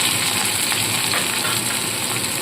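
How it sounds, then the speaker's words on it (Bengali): Chopped onion fries in mustard oil with an even, dense, close-up sizzle that holds steady throughout, with no speech. "পেঁয়াজটা হালকা ভাজা ভাজা করে একে একে সমস্ত মশলা এর মধ্যে দিয়ে দিতে হবে"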